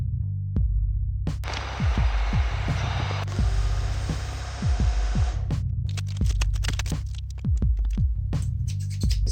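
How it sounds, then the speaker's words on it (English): Vacuum forming machine running in a cosplay workshop, a steady low hum with throbbing pulses and a burst of hissing air in the middle, plus sharp clicks and knocks toward the end. "put it on the vacuum forming machine"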